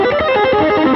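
Distorted electric guitar playing a short melodic line, gritty and sustained, with notes bending and shifting steadily for about a second.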